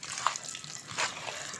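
Water poured from a glass into paratha dough mix for an egg and vegetable paratha, a soft steady trickle and splash with a brief louder gush near the middle, no talking.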